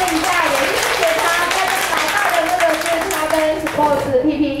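Applause from a Rotary club audience at a Father's Day gathering, continuous dense clapping that runs throughout under a talking voice, thinning near the end.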